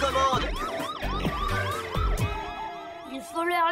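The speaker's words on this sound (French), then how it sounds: "Ok, j'ai entendu, j'ai compris, il y a une sirène." Cartoon siren from Ricky Zoom wailing in repeated rising-falling sweeps, loud and near, with a short whistling trill near the end.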